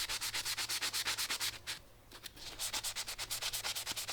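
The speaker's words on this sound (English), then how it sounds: "Just sanding off a bit of the debris and build up on the blade." A sanding block rubs rapidly back and forth against a garden tool's metal blade, removing debris and buildup in quick, rhythmic strokes, close up, with a brief pause midway.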